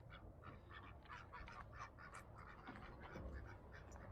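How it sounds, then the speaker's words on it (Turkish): Several ducks quack in busy, overlapping bursts, fairly close, with a low background hum beneath them, in Adana, Turkey. "Ördeklere bak."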